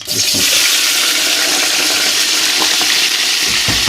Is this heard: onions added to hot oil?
yes